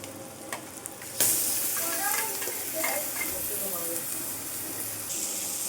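Garlic paste hits a pan of browned onions with a loud burst of sizzling. A spoon scrapes and stirs through steady frying, with faint background noise and no talking during the sound.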